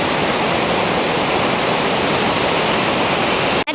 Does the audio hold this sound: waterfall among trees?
yes